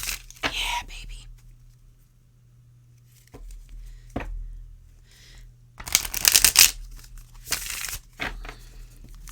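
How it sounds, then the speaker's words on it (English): A U.S. Games tarot deck is shuffled in short, crisp riffling bursts separated by quiet pauses, close and fairly soft, with a few faint words spoken in between. "Now, the delight of shuffling a U.S. Games Tarot deck."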